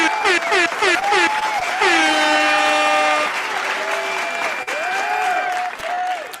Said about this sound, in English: Let me give you a very good clap.